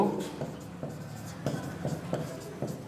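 Writing strokes scratch out in short, evenly spaced bursts, about six of them, close and moderately quiet, over a faint room background with no clear talk.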